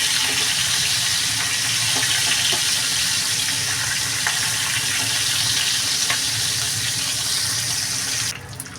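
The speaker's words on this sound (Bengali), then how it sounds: "ইলিশ মাছ ভাজা সাথে শুকনো লঙ্কা ভাজা" Hilsa fish frying in a pan alongside dried chillies, a dense, loud, steady sizzle heard up close with a few faint clinks and no talk.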